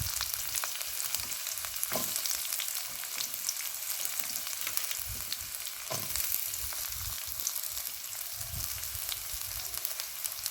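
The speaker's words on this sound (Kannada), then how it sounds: "ಈರುಳ್ಳಿ ಚೆಂದ ಹುರಿಬೇಕು," Onions fry in oil in a pan for tomato gojju, a continuous close crackling sizzle with occasional soft stirring scrapes, and no voices.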